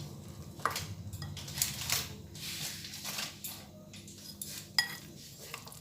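Potato pakora batter made with cornflour or rice flour being mixed by hand in a bowl, soft squishy kneading with intermittent light clinks against the dish, close and quiet with no talking.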